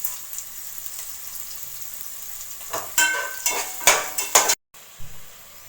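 Onion and tomato sauté in a pan; a soft, steady sizzle gives way to several sharp bursts of spatula scraping and stirring against the metal, then a brief pause and one more clatter.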